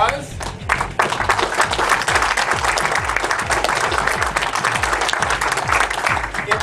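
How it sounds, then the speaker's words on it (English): Applause from the crowd at a walleye fishing club meeting rises and carries on steadily, mixed with a repeating low thumping sweep in the room. "Let's get a big round of applause"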